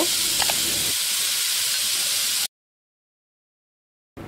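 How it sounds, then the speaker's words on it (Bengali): Marinated chicken tikka pieces frying in hot oil over high heat give a loud, steady sizzle and hiss that cuts off abruptly partway through, leaving silence before the sizzle briefly returns. "এখন চুলার আঁচ হাই হিটে রেখে চিকেনগুলোকে ভেজে নিব।"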